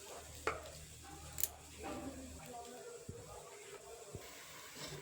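Panch phoron spices, bay leaf and tamarind sizzling in hot oil for a sour Bengali fish dish, a faint, soft hiss with a few stirring clinks and scrapes in a quiet kitchen.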